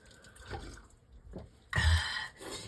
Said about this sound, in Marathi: आता पाणी पितो बघा